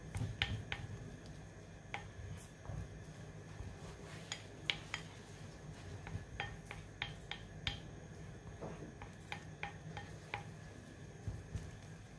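A ginger mixture is mixed in a bowl, with faint, irregular clicks and light scraping of a utensil against the bowl in a quiet room.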